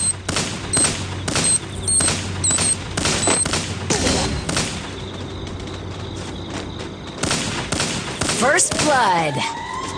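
Rapid bursts of gunfire from a video game, shots cracking in quick volleys with booms and whooshing effects, loud and close, while a player talks over the action.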